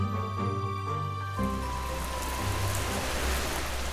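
Steady rain on a quiet afternoon, a dense even hiss that takes over after a short musical passage and carries on alone at moderate level with no voices.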